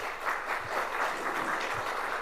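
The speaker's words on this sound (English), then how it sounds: "I think a round of applause for the 4 of them." Applause from a workshop audience honouring four youth leadership facilitators, a steady wash of many hands clapping at moderate distance, even and unbroken.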